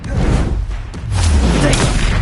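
Blasting spell exploding in Hogwarts Legacy combat, a whooshing cast then a heavy, close boom that swells and rumbles, with a voice briefly over it.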